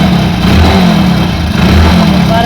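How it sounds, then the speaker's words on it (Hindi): A Hero Passion Pro motorcycle with a sound problem runs loud and close after starting, a steady throbbing engine note with slight rises in revs and no talk over it. "देख पा रहे हैं गाड़ी स्टार्ट करने का यहाँ साउंड सुना दे आपको"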